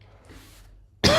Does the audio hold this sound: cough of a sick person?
yes